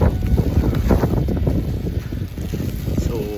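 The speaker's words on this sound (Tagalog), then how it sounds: "malakas yung hangin" Strong wind blows during a first December snow storm. It roars and buffets the microphone continuously and loudly, up close, with no break.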